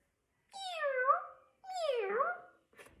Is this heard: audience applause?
no